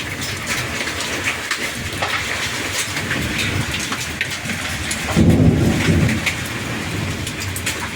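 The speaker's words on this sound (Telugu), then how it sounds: "వడగళ్ళు పడుతున్నాయి, సౌండ్ చూసారా?" Small hailstones and heavy rain pelt a terrace garden during a thunderstorm, making a dense, steady patter of sharp ticks. A low rumble of thunder swells briefly midway.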